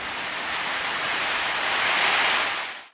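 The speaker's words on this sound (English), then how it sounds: "That's actual Florida hail." Hail pelting down in a Florida hailstorm, a steady, loud, dense hiss of countless impacts washing over everything, close and continuous with no pauses.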